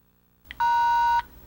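A 1994 Motorola mobile phone key beep on pressing store, a short click and then a single clean electronic tone lasting about half a second, close and clear.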